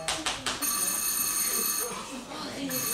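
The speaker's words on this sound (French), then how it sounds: "Téléphone." A telephone bell rings as a stage sound effect in a French theatre play, the comedy La Perruche et le Poulet: a few quick ring bursts, then a sustained ringing tone, fairly loud, with voices talking faintly underneath.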